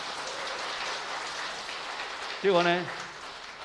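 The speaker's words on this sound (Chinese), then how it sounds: "我们先跟上帝拍拍手好不好？" A church congregation claps hands during a Sunday worship service, a dense, rain-like patter of applause that runs steadily before a voice briefly speaks near the end.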